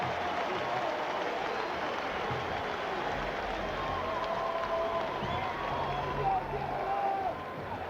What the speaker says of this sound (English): there's a lot of crowd noise here in Cincinnati for probably the first time this year